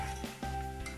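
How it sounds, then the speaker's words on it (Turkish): Meatballs sizzling in a hot pan, a continuous crackling fry with a few brief scraping stirs and faint clinks of a utensil. "Şimdi kalan diğer köftelerimi kızartmaya devam ediyorum."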